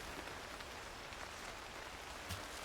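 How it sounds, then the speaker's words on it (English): Steady rainfall in the climbing game Cairn, a soft, even hiss of drops on surfaces with occasional slightly louder patters, faint and continuous with no voices. "Don't like that it's raining."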